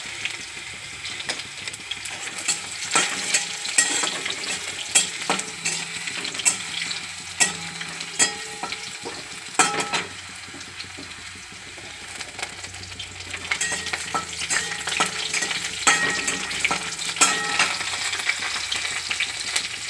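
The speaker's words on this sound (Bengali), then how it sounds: "তেল গরম হয়ে গেছে, দিয়ে দিচ্ছি শুকনো লঙ্কা আর রসুন ফোড়ন, দিয়ে দিচ্ছি হাফ চামচ কালো জিরে" Dried red chillies, garlic and half a spoon of black cumin crackle and sizzle in hot oil, a steady close frying hiss with scattered pops and stirring scrapes, no voices, while red amaranth greens are fried with poppy seeds and nuts.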